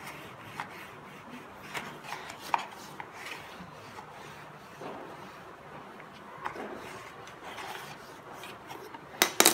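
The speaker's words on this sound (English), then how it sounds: "go inside and burnish the pocket so that it sticks down to our" Quiet rubbing and scraping as a paper pocket flap on a handmade kiss-the-cook recipe album is burnished down onto its base, with a few soft taps and a sharper clatter near the end.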